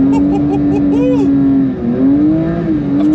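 A Porsche GT3's naturally aspirated 4-litre flat-six engine holds a loud, close, steady tone with small rises and dips in revs, heard from inside the car on an icy Nürburgring.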